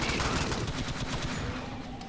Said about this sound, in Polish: Dobra, ja strzelam do tyłu, ja strzelam do tyłu.